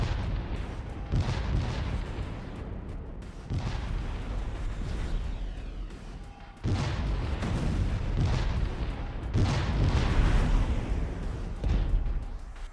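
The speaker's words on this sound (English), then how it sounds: "looks like pulse torpedoes." Pulse torpedoes fire in the space strategy game Distant Worlds 2 as a series of heavy, booming bursts, loud and close, rumbling continuously with several stronger blasts around the middle and end.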